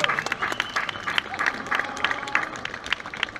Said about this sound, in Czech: ale klidně tleskejte, kdybyste tady stáli vy, tak taky byste chtěli, aby se vám tleskalo